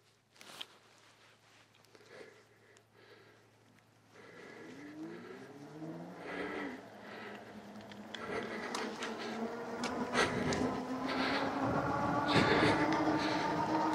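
A 52-volt Magicycle cruiser e-bike with an 86 Nm motor climbs an off-road hill on throttle alone, its thin electric whine rising in pitch and growing louder as speed builds, with rattling and wind noise.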